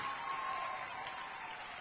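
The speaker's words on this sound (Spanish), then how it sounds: "Eso es para darle un aplauso al Señor." Moderate crowd applause, a steady wash of clapping that tapers slightly toward the end.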